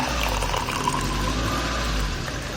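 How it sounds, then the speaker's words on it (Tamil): Hot water pouring into a glass of ginger, lemon and turmeric juice, a continuous splashing stream with a low filling rumble, close and steady for the whole stretch before easing at the end. "அடுத்தபடியாக இதில் நல்லா சூடான தண்ணி"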